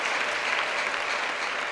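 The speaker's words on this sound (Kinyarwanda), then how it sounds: "Muyikomera amashyi bene data." A church congregation claps together in steady, dense applause, close and continuous from start to end with no voices standing out.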